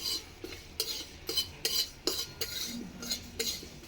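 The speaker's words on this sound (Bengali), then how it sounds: "এই মশলাগুলো আমি নেড়ে নেড়ে ভেজে নেবো একটু লাল লাল করে" Dry whole spices, including ajwain, stirred and roasted in a pan for mango pickle, giving repeated metallic scrapes and clinks of a utensil against the pan in a steady rhythm, close and moderately loud.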